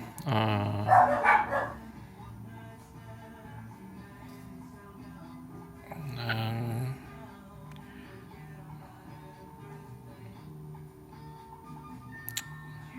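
A dog barks in a short burst near the start, then again briefly around the middle, with a low background hum throughout and little else.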